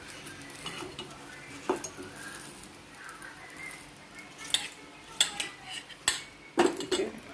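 Kuzhi paniyaram lifted from the pan and dropped into a vessel, with sparse metallic clinks and scrapes of utensils against cookware over a quiet background with soft sizzling.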